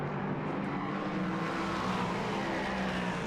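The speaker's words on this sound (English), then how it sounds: "You can probably hear them now as they start to fly past the cameras at higher speed as well, go up through the gears." Prototype race cars at the Nürburgring roaring past at speed and climbing through the gears, a continuous loud engine drone with rising pitch sweeps and no talk over it.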